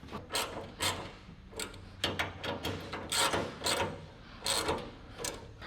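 A bolt is tightened on a 1968–69 Camaro front door glass assembly with a run of close, quick ratcheting clicks and rubbing metal sounds in short, uneven bursts.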